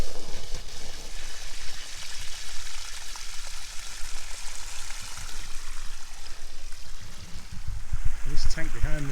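Water drains from a 27,000 litre tank on rural land after heavy rain, a steady close rushing and splashing flow that holds throughout, with a voice speaking over it.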